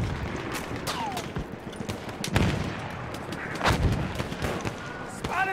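Battle sounds from Battlefield 1 around a field gun, with several sharp booming shots at irregular intervals over a constant din of distant gunfire and shouting soldiers.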